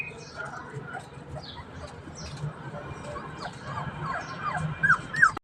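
Puppies whimpering and yipping outdoors at a farm, with faint high whines that grow louder toward the end, mixed with people talking nearby.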